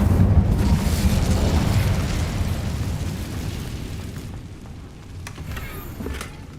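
A fire spell cast in the video game Hogwarts Legacy bursts with a loud, rumbling whoosh that swells and slowly fades over several seconds, followed by a few fainter crackles.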